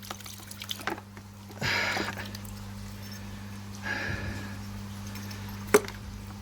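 Liquid flushes through a Fermzilla fermenter and its hose under low serving gas pressure, a faint gurgling rush in a couple of surges over a steady electrical hum, with one sharp clink near the end.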